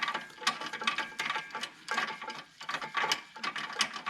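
Nuts are hand-tightened onto a CURT front trailer hitch, producing quick, close ratcheting clicks and metallic ticks in short irregular bursts, with no talk.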